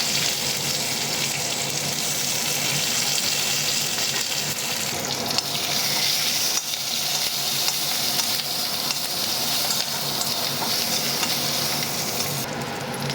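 Mustard seeds, cumin, dried red chillies, curry leaves, coriander and garlic cloves frying hard in hot oil for a dal tempering, giving a loud, steady crackling sizzle with stirring throughout and no voices.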